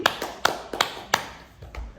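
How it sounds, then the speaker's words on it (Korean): Several sharp claps from a congregation in a church during a pastor's Wednesday Bible study, spaced unevenly and fairly close, fading toward the end. "박수!"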